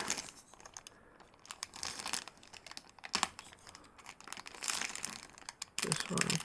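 A knife slicing open a cardboard package, with crinkling, tearing and scraping bursts scattered through the clip and a voice speaking at times over the handling noise.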